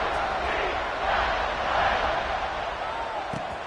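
A stadium crowd at a college football game roars steadily as a dense, sustained wash of cheering that swells slightly midway, with no clear single voice standing out.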